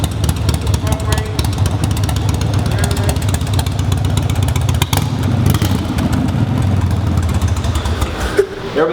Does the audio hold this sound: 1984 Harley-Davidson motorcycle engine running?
yes